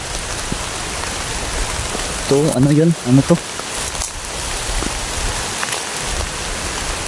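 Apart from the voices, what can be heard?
rain falling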